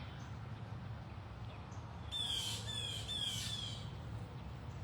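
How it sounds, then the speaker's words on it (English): Several sharp, harsh bird squawks burst out in quick succession over a steady low outdoor rumble, loud and fairly close, at a big cat sanctuary. "there's a lot of feisty birds over in this area today"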